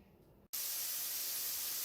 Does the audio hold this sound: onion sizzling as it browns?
yes